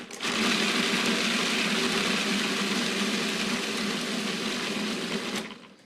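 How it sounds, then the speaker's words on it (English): A food processor pulses pumpkin seed pesto ingredients, a loud, steady whirring motor that runs almost six seconds before cutting out. "So I'm going to pre-pulse the ingredients that I have in here"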